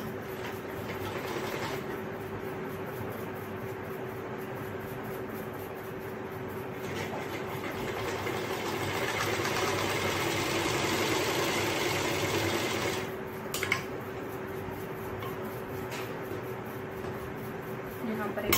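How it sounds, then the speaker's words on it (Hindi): A sewing machine stitches a double seam on old trousers with a steady, continuous whirring drone, close and fairly loud, and a voice talks over it. "यहाँ पर एक डबल सिलाई लगाएंगे।"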